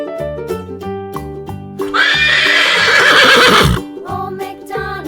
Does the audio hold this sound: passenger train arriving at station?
no